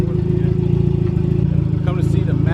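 A turbocharged Honda Integra engine idles steadily on a dyno day, a loud, close, even low rumble with a speaking voice over it toward the end.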